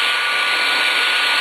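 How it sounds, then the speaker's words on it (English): A handheld blow dryer runs on its hot, high setting close by, giving a steady, loud, continuous whoosh of airflow with motor whine and no variation. "I just put the blow dryer on hot, and I put it on high"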